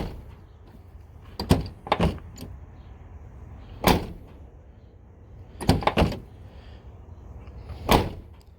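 A first-generation truck door, fitted with replacement door pins, is swung shut and opened several times. Sharp close thuds and latch clunks come in pairs, separated by quieter pauses.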